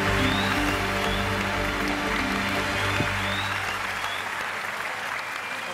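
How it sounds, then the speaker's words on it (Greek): A studio audience at a Greek TV talent show breaks into loud, sustained applause over a low musical bed, the clapping easing slightly toward the end. "Να του δώσουμε ένα δυνατό χειροκρότημα"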